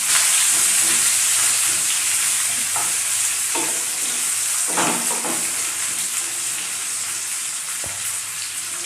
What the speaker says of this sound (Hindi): अब हम प्याज को अच्छे से ब्राउन कलर आने तक भून लेंगे